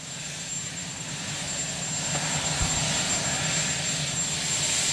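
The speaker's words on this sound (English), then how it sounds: "this is the tape of just a few minutes ago as the chopper was prepared for the flight, sealed up" Helicopter being readied for flight, a steady turbine whine and low rotor rumble that grows gradually louder, continuous with no speech.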